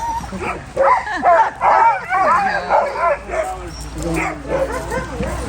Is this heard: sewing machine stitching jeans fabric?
no